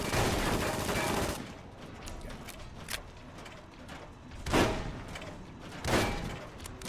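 Gunshots in Fallout: New Vegas on Hardcore mode: a loud burst of rapid fire at the start, then isolated heavy shots spaced a second or more apart over a quieter background.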